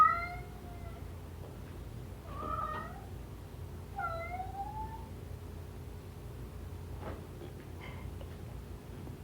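A domestic cat meows several times, fairly close: a few rising and falling calls in the first half, then only faint room noise.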